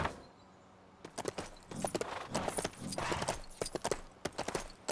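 Horse hooves clip-clopping in the LEGO The Hobbit video game, a quick irregular run of hollow knocks under faint game ambience, with no talking.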